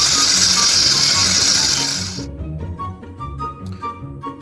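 A socket wrench ratchets near an aluminum oil pan in a home garage, starting with a dense, loud buzzing rattle and then breaking into quieter scattered clicks.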